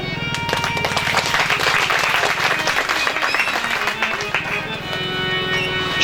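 An audience at a live Shreemad Bhagwat Katha claps loudly and continuously in a dense, rapid patter, with musical tones underneath and the clapping easing off near the end.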